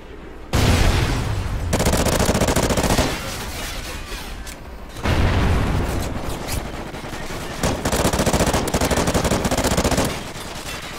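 Video-game gunfire: long, loud bursts of automatic shots rattle close by in several sustained volleys with brief pauses between them, and no voices over them.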